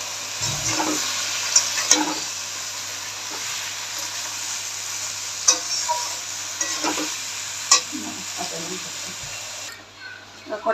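Spinach leaves dropped into a hot pan and stirred, a steady sizzle with repeated scraping stir strokes and a low hum beneath, ending with a short drop in level.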